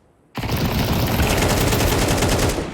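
Automatic gunfire in Counter-Strike 2 bursts in after a short silence and continues as a loud, rapid, sustained stream of shots close to the listener until the end.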